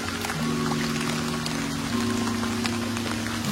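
Heavy rain pours steadily outside a new house, a dense, even patter with a low hum running underneath.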